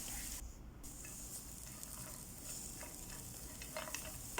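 A mashed ripe nendran banana mixture is stirred, a steady wet stirring and faint sizzle throughout, with soft scraping clicks of a utensil, close and without any talking.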